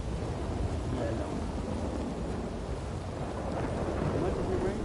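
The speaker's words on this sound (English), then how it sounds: "it rains in the game pretty much every day or every other day" Rain falls steadily in the Red Dead Online video game, a soft, even wash of noise with a low rumble of thunder rolling underneath, heard faintly and continuously throughout.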